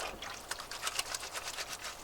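Hot water runs and splashes at a sink aboard a narrowboat while a shirt is washed by hand, a steady close trickle with small uneven surges of splashing.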